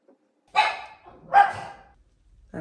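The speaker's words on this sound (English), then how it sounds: "That's Duke, my little guard dog in the background there." A small guard dog named Duke barks twice in the background, two sharp, fairly loud yaps about a second apart, followed by silence and the start of another bark.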